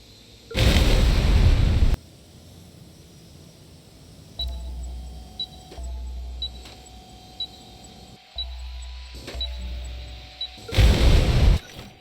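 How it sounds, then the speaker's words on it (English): Two loud, noisy transformer-fault explosion bursts in Watch Dogs 2 open and close the stretch, with electronic beeping and low humming pulses in between. "The other 2 with a transformer fault explosion."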